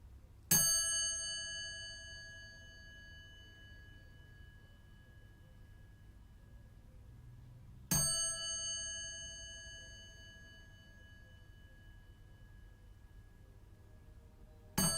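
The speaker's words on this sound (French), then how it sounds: "Et après avoir invité la cloche à sonner" A meditation bell rings twice, each strike a clear metallic ding with a long, slowly fading ring over a quiet background, about seven seconds apart, with a third strike starting at the very end.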